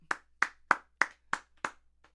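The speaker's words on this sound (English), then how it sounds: "Clap it up." Six sharp, evenly spaced hand claps ring out close by, roughly three per second, with a softer seventh clap trailing at the end and no voices.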